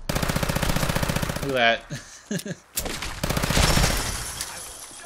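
An M1911 pistol from a Fallout 4 weapon mod fires in a fast, evenly spaced string of loud shots, then a few scattered blasts with echoing tails, as someone briefly speaks.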